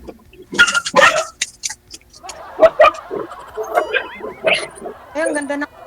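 Several dogs bark, yip and whimper in short overlapping bursts close by, spread through the scene while people talk around them.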